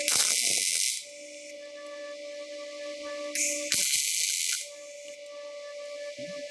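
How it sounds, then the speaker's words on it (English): DP200 pulse MIG welder tack welding two steel pieces, a loud hissing crackle in two bursts, each about a second long, with a steady hum running underneath. "I'm going to simulate tacking these two pieces together"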